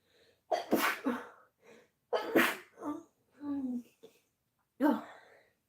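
One close, loud human sneeze sounds amid a quiet room, surrounded by a few soft breathy vocal bursts and brief murmurs.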